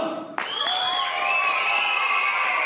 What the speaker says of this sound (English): So let's practice cheering them on.